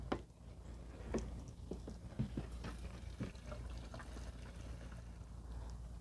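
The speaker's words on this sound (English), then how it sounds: "going to add some fresh fuel" Fresh fuel poured into the tank of a Lawn-Boy mower with a Kohler XT-650 engine, a soft close gurgling trickle with small splashy bursts over low background rumble, no talking.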